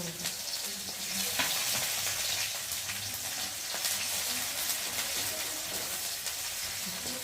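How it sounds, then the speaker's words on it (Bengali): Chopped onions sizzle and fry steadily in hot oil in a wok, a dense continuous crackle with occasional stirring scrapes, close and fairly loud with no talking. "তেলটা গরম হয়ে গেছে আর এখন আমি দিয়ে দেবো পেঁয়াজ কুচি"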